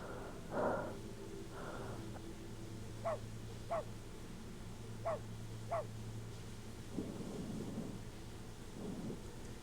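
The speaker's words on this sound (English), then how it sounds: "It sounds so much like a dog barking." A patient with breathing problems makes harsh, bark-like coughs in a medical game: four short, evenly spaced yelps, fairly faint over a low background rumble.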